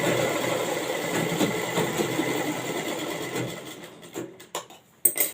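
A sewing machine stitches the lower flared panels of a dress together in a steady, close mechanical whir that runs continuously, then breaks into short stop-start bursts near the end.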